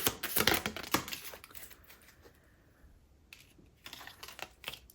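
Tarot cards are shuffled by hand for a pick-a-card reading, giving a quick run of close, crisp riffling flutters, a pause, then a few more soft card taps and riffles.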